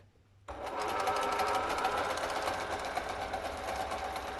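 A sewing machine starts up and runs steadily, stitching a narrow zigzag, its fast even mechanical clatter close and continuous after a brief quiet moment.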